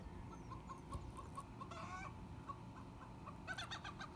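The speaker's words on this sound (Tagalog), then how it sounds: "Ganyan pala yung mga manok nila dito." Chickens cluck in a historic old town in Al Ula, Saudi Arabia, a string of short, faint clucks spaced through the stretch with a brief flurry near the middle and a quick burst of calls near the end, no one talking over them.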